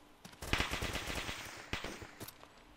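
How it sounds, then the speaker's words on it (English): Rapid bursts of automatic gunfire in the military video game Arma II, sharp clustered shots in two volleys with a brief pause, moderately loud and without speech. "I don't know what you're shooting at."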